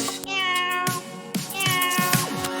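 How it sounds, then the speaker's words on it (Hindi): Cartoon cat meows twice in a Hindi children's nursery rhyme, bright drawn-out mews with a gap between, loud and close over a soft musical backing. "बिल्ली मौसी कहो कहाँ से आई हो।"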